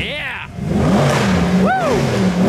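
Mercedes-AMG cars revving on a London street, loud nearby engine roars rising and falling with sharp pitch sweeps, people talking over them.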